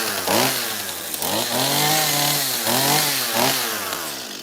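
A chainsaw, choked after several failed pulls, sputters into life and runs loud and close, its engine rising and falling through repeated revs over about four seconds, used for carving a rainbow trout sculpture.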